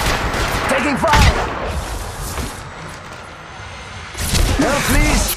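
In an Apex Legends match, bursts of rapid gunfire erupt around the first second and again near the end, loud and close, with game voice lines and talk over them.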